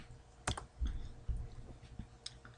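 Scattered keystrokes clatter on a computer keyboard while someone codes in Just BASIC, a few sparse, irregular clicks over low room hum, close but quiet.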